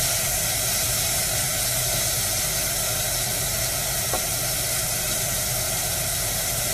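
Filet mignon searing in a hot pan gives a steady, broad hiss and sizzle that holds evenly throughout, close up, with one faint click partway through and no talk.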